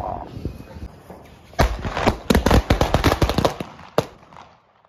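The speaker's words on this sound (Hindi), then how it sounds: "अब हम करेंगे आतिशबाजी।" Diwali fireworks and firecrackers go off just inside a housing society gate, with a dense run of loud, rapid crackling bangs peaking midway and then tapering to quiet.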